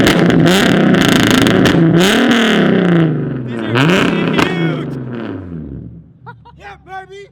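A car with a 3.8 engine and automatic transmission revs hard while its exhaust shoots flames: loud, close, rising and falling roars, then the engine drops to idle with sharp pops near the end, under excited shouting.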